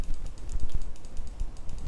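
Sharp, rapid clicks of a computer mouse or keyboard during Photoshop dodge-and-burn editing, close and fairly steady across the short stretch, with no talking.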